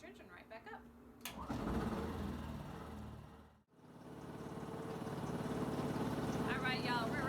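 A small engine on a K-Rigg pressure smoker cooking salmon runs with a steady mid-pitched buzz. It cuts out briefly, then restarts and settles into a continuous drone, and a voice talks near the start.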